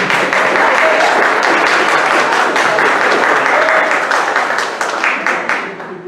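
Sustained audience applause at a blog anniversary gathering, a dense steady wash of many hands clapping for a companion called to the front, staying loud throughout and easing off slightly near the end.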